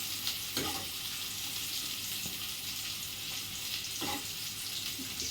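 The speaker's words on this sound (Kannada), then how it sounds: "ಈರುಳ್ಳಿ ಹಾಕ್ಕೊಂಡು ಚೆನ್ನಾಗಿ ಫ್ರೈ ಮಾಡ್ಕೊಳ್ಳಿ ಚೆನ್ನಾಗಂದರೆ ಅದು ಗೋಲ್ಡನ್ ಕಲರ್ ಬರಬೇಕು" Onions fry in a pan toward golden for a chicken curry, giving a soft, even sizzling hiss with a few faint stirring clicks, fairly quiet throughout.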